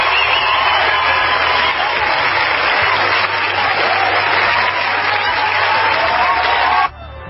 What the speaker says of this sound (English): we're giving him one more applause send-off